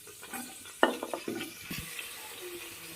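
Onion drops into hot coconut oil and ghee in a pressure cooker, giving a sudden sharp hiss that settles into a quieter, steady sizzle with a few clinks, fairly soft and nearby.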